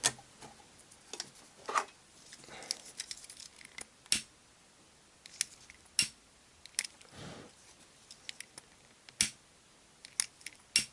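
Scissors snip through tent tie-out material in a quiet space, with a series of sharp, close, irregular clicks and short cutting crunches spread across the stretch, no voices.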